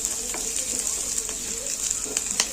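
Onions fry with mint in hot oil for jeera rice, a steady bright sizzle with small crackles and faint stirring, close and continuous with no talk.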